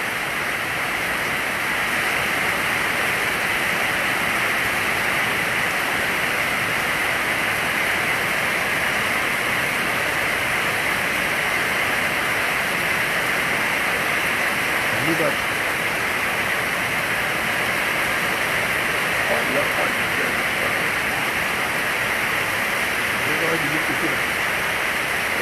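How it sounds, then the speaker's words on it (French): Heavy rain hammers down on the streets of Brazzaville in a loud, continuous roar. Faint voices come through the downpour now and then. "C'est une bonne pluie."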